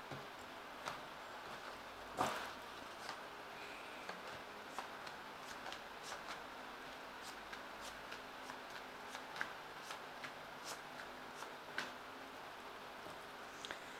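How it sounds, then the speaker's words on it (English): Playing cards being shuffled and cut for a tarot reading, with crisp flicks and snaps scattered irregularly over a quiet room, one louder riffle near the start. "I have shuffled these cards. I'm just going to cut them"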